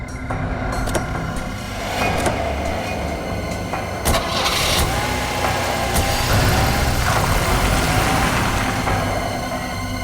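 A car engine cranks and catches, then settles into a steady mid-pitched idle that runs loud and close throughout, with a few sharp clicks or door knocks in between.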